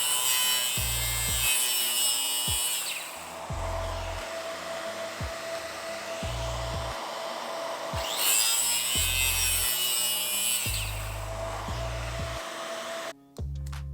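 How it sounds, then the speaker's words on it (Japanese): A saw cuts away part of a 12 mm thick wooden Gundam model piece in long, harsh rasping strokes. A steady low hum runs underneath and occasional knocks break in, with no talking. "12ミリじゃ厚みが邪魔するので切り取っていきます。"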